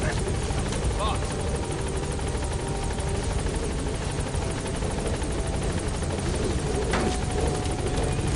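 A helicopter in Metal Gear Solid V: The Phantom Pain gives a loud, continuous rotor thrum with rhythmic blade chop that stays steady throughout, with radio voices speaking over it.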